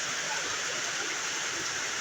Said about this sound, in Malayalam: 9:20 തുടങ്ങിയ മഴ